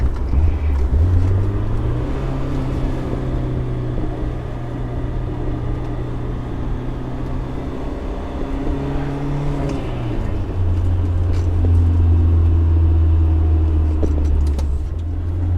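Interior drone of a BMW E30 M3 on a short drive, its engine humming steadily with pitch climbing and falling through gear changes, loud and close, with no talking.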